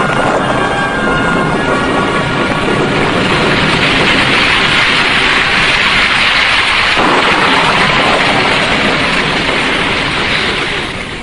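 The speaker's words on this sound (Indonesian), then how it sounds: "ketika hujan turun dengan derasnya" Heavy rain pours steadily on a mountain summit in a dense, unbroken roar, with deep rumbles of thunder rolling beneath it throughout.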